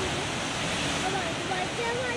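Ocean waves roar and crash at Thunder Cave on the Great Ocean Road, a loud, unbroken wash of surf that fills the whole stretch.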